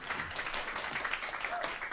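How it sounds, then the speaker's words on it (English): A round of applause from a seated audience at a Climate Week panel on climate and hunger, a dense, even patter of clapping that holds steady and fairly loud throughout. "Give them a round of applause,"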